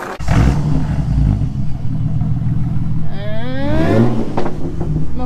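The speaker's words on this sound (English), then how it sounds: "let's hear how the car sounds, Omar." A car engine roars and revs hard up close, with rising and falling pitch sweeps as the throttle is blipped, loud throughout the few seconds.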